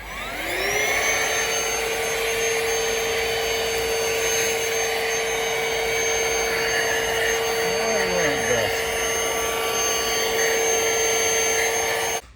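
A Black & Decker Powerseries+ cordless stick vacuum runs steadily from start to finish with a loud, constant motor whine, then cuts off abruptly at the end.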